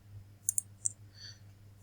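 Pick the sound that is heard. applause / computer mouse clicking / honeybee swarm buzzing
computer mouse clicking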